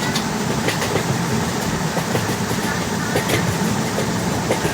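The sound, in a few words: train running in Indian Train Simulator video game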